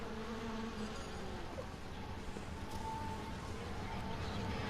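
Steady insect buzz of bees drifts around an outdoor night scene in the game Everybody's Gone to the Rapture, a continuous droning hum at moderate level with faint ambient texture beneath.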